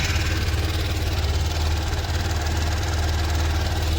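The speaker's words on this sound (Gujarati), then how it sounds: "બાઇક કરી દીધું છે ચાલુ" A motorcycle engine idles steadily while warming up before a ride to a workshop, a continuous low throbbing rumble close by with even pulsing and no talk.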